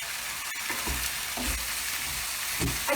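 Ground paprika sizzles and fries in a hot pan for goulash, a steady crackling hiss with soft scraping strokes as it is stirred, close and without talk.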